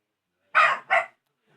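A dog barks twice in quick succession from a moderate distance, two sharp yaps followed by quiet.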